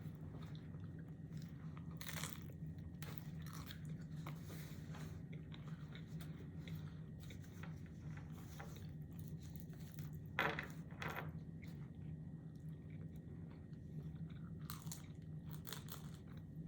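Someone bites into the crunchy crust of a Canadian bacon and pineapple pizza, faint close crunches and chewing scattered over the stretch, with one sharper crack near the middle and no talk.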